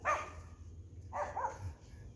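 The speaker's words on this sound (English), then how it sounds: "oh, a new puppy" A puppy barks outdoors, with a sharp yip at the start and a pair of higher barks about a second later over steady low background rumble.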